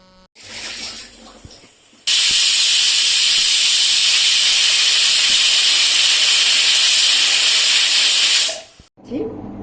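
A pressure cooker whistles while cooking urad dal, a loud, sustained hissing jet of steam that bursts on abruptly, holds for several seconds and then cuts off, with quieter kitchen sounds before and after.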